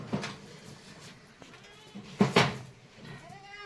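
Goats on a goat farm, a few short bleats standing out against a quiet background, with scattered faint knocks and movement between calls.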